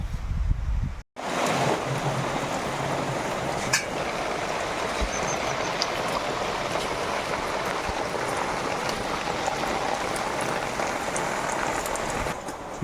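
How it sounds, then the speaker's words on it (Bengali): Light drizzle falls outdoors, a continuous soft hiss of fine raindrops pattering on surfaces, steady and even after a brief break near the start, with no voices. "বাইরে আবার ঝিরঝির করে বৃষ্টি শুরু হলো"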